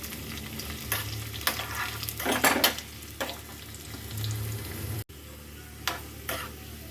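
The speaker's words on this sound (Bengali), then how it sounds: "রসুনটা দেখুন ভালো লাল লাল করে ভাজা হয়ে গেছে" Garlic and chilli frying in a pan, a steady close sizzle broken by repeated scraping stirs of a spatula, with one louder burst of stirring midway.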